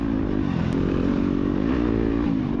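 A dirt bike revs hard during a scrambler race, its loud, close engine buzzing steadily with rough clattering texture and no talk over it.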